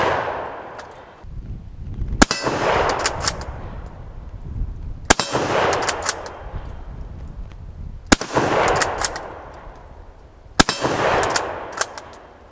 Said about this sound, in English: Let's go ahead and launch some more rounds.